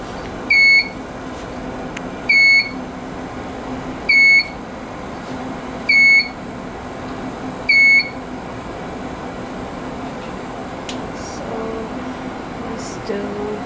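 A lab centrifuge with its rotor sounds five evenly spaced electronic alarm beeps about two seconds apart over a steady machine hum, after which the hum continues without beeping.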